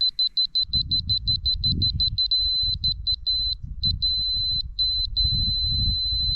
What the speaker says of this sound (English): You can hear that beeping.